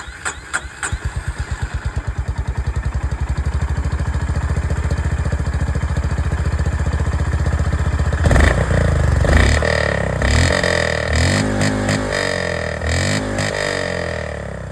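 A 2025 Honda CB350 motorcycle engine starts with rapid pulsing, settles into a loud steady idle, then revs up and down in several bursts toward the end.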